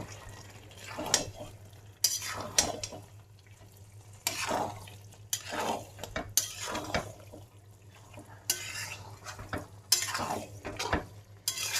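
Previously fried potatoes are stirred into a dish in a pan, with repeated scraping sweeps of a utensil over a low steady hum and a soft sizzle. No one talks.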